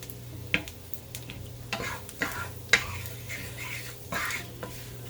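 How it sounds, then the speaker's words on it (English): A roux of sausage fat and flour cooks in a pan with a quiet, low sizzle, punctuated by several light taps and scrapes of a utensil against the pan. "with the fats and the flour, we're going to be making our roux"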